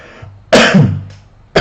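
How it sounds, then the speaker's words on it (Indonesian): A single sharp, loud cough followed by a throat-clearing burst, close to the microphone, with a second cough starting at the end, isolated from speech during an indoor statistics tutorial. "batuk."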